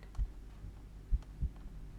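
Soft, deep heartbeat thuds from the horror game Do Not Take This Cat Home, a few muffled pulses against a faint low hum.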